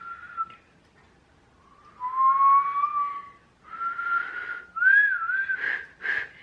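Someone attempts to whistle in short, wavering tones, several breathy, uneven notes with pauses between, some breaking into airy puffs.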